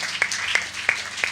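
Church congregation clapping in a steady rhythm, four sharp claps spaced evenly over a brief stretch, moderately near with a faint background murmur.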